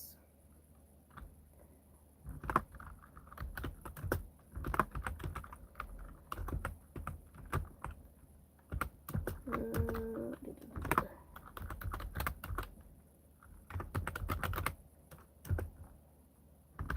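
Bursts of fast clicking on a computer keyboard come in uneven runs with short pauses, close and fairly quiet, and faint speech-like sounds appear now and then.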